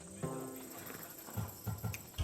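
Horse hooves clip-clopping in Assassin's Creed Odyssey, a Thessalonian horse bred for courage, several soft steps in a steady rhythm growing louder near the end.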